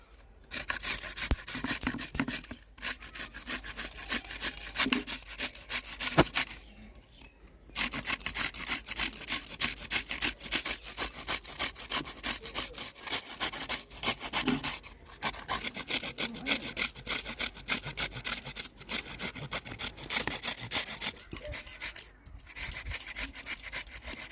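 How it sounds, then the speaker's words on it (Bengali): Raw papaya is rubbed against a hand grater in steady, continuous rasping strokes, close and fairly loud, with a few brief pauses between runs. "পেঁপেগুলোকে এবার ওই গ্রেটার দিয়ে ঘষে নেবো একটু"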